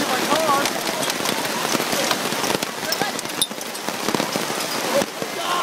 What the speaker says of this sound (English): Herb, your first team competition, and it's hailing